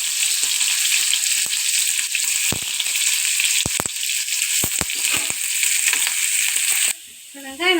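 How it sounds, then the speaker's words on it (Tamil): Mustard seeds and onions frying in a pan for brinjal fry give a steady, loud hiss with sharp seed pops scattered through it; the sizzle drops away near the end, leaving a short faint sound. "கடுகு பொரிஞ்சு வச்சு வெங்காயம் போட்டுக்குருவோம்."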